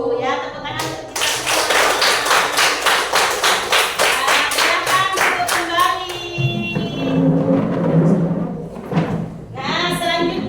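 Loud, close hand clapping from a class of students, a fast run of sharp claps under a teacher's voice, followed by shuffling and thuds as people sit back down while she keeps talking.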